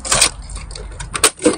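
An ammunition belt being loaded into a heavy machine gun receiver, with a few short, sharp metallic clicks and rattles spread over under two seconds, close and distinct.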